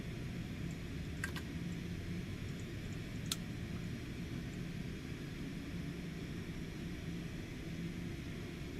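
A Cessna Citation X jet engine starting in a flight simulator game, a steady low broadband rumble and whine throughout with a couple of brief clicks, no talk.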